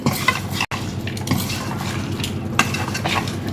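Chicken pieces being stirred and mixed in a metal bowl or pan with salt, turmeric and chili powder, giving a continuous wet scraping and clinking of utensils, close and steady with no talking.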